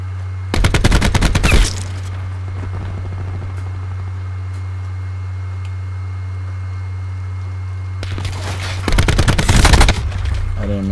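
Call of Duty Black Ops 4 gunfire on a jungle map: two loud bursts of rapid automatic fire, one near the start and one near the end, separated by quiet stretches over a constant low engine hum.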